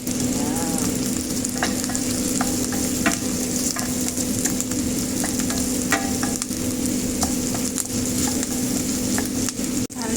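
Garlic fries in a hot pan with a dense, steady close sizzle, punctuated by occasional utensil taps and stirring scrapes, with no talking.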